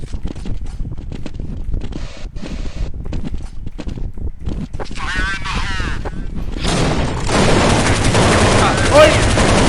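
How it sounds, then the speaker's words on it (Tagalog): Gunfire in Counter-Strike: Global Offensive, sniping during a match, with dense bursts of shots building to louder continuous firing near the end, mixed with game sounds and some voice activity. "Sniping yan. Baril."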